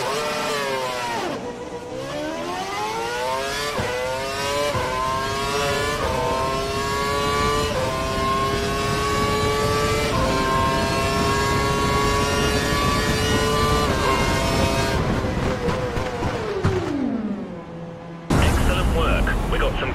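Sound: Formula One car engine accelerating, video game

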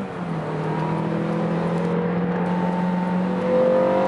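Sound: coupe cars accelerating at a drag race launch

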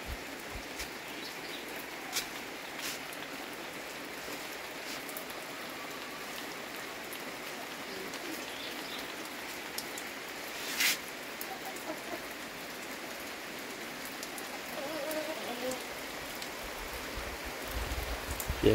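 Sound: rain falling at a rural farm

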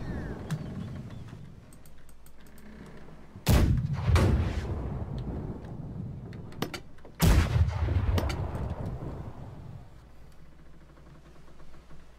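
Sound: ship cannons firing in video game

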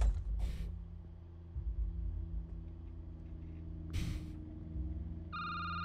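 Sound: telephone ringing in a video game

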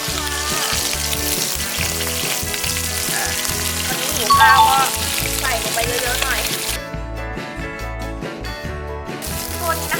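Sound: frying boiled jasmine rice in a pan

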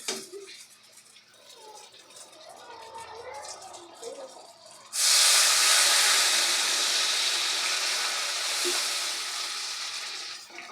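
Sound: Dum aloo gravy boiling with potatoes and spices

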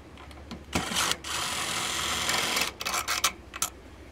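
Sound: power screwdriver removing RV furnace mounting screws

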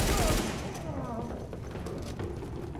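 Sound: AK rifle gunfire in video game The Division

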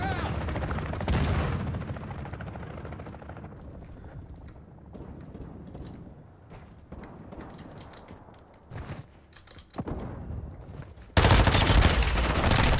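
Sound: Lachmann Sub automatic gunfire in Call of Duty Modern Warfare 2 video game

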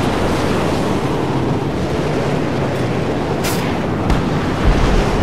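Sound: storm wind in a video game

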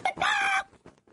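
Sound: hen clucking

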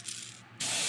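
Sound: spraying paint onto a crankbait fishing lure

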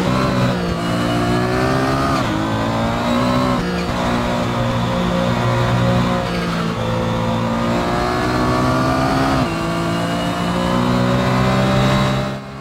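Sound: Porsche 911 GT1 '98 engine at Montmeló, Assetto Corsa video game

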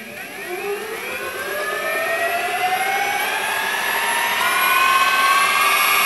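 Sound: electric skateboard wheels spinning

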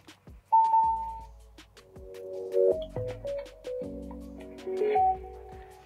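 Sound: Tronsmart Mirtune C2 Bluetooth speakers pairing sound

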